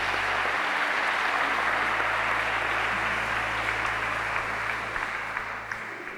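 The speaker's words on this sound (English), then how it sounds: "So can you give yourselves a round of applause" Audience at an apprentice graduation ceremony applauding for the apprentices' supporters, a dense, steady round of clapping that holds for several seconds before easing slightly at the end.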